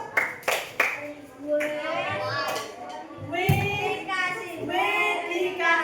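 A short burst of handclaps from a group of children in a classroom lesson, then young voices chanting and talking together in a lively room.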